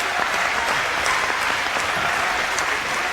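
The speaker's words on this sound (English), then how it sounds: "Good support in the crowd for both players." A crowd applauds at the 1997 British Open squash final, a loud, even wash of clapping from many spectators that stays steady throughout with no talk on top.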